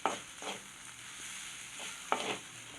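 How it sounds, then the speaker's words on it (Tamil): Capsicum egg poriyal being stirred in a pan, soft scraping strokes of a spoon over a low, steady sizzle, with a couple of sharper clinks against the pan. "இதையும் சேர்த்து ஒரு கிளறிக்கலாம்."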